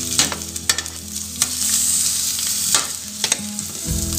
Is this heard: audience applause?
no